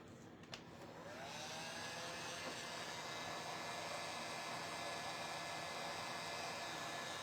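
A handheld hair dryer blows on a glued, painted cardinal craft piece from a DIY kit. It starts up after a short click and runs as a steady, loud, close whoosh to the end.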